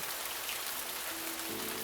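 Steady rain falls, a dense, even hiss of drops hitting surfaces that stays constant throughout, with a faint low tone joining near the end.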